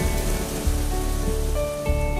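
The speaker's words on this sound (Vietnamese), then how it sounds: "lâu lắm rồi mới thấy mưa lớn như vậy" Heavy rain falls in an animated cartoon, a steady, dense wash of drops with no voices, though faint tonal music sits underneath.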